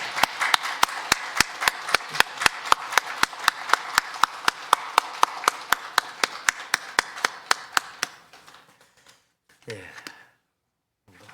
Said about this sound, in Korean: 힘찬 박수로 영광 돌리겠습니다.